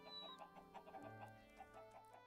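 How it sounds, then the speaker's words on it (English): Chicken in a blocky survival video game clucking, a series of short, quick clucks in an irregular rhythm, close and fairly quiet, with no talk over it. "Chicken, chicken. Oh, chicken."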